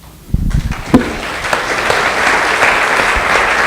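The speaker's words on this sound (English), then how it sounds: "giving yourselves a round of applause" An audience at an Ojai Chautauqua gathering breaks into a round of applause, beginning after a brief quiet moment and then building into steady, full clapping that carries on to the end.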